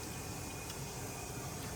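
Water runs through a Waterdrop 15UAW-UF ultrafiltration filter installed under a kitchen sink while it is flushed, a steady, even hiss of flow with no voices.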